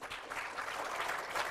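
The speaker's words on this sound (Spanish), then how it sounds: "también un aplauso." Audience at a 2021 drawing and painting contest award ceremony applauding steadily, a dense even wash of clapping that holds for the whole stretch without pause.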